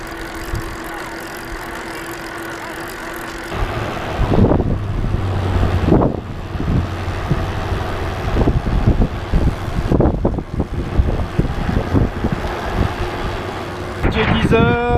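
Heavy wind buffets the microphone in a steady low roar with gusty surges, alongside a rumbling engine-like drone throughout, on a sail-assisted bicycle crossing Kazakhstan.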